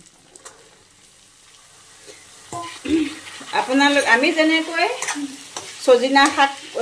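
Mustard-green stems tossed into a hot pan for a fry: a faint sizzle at first, then steady frying and stirring under a person talking close by.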